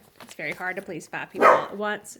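A household dog barks in the background while a person speaks over it at close range, the barks mixed in among the talk.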